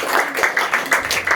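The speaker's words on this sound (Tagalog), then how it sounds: "isang mataas na palakpak pa po at malakas para po sa ating Panginoon" A church congregation applauding loudly for the Lord: dense, sustained clapping from many hands, close and even throughout the short stretch.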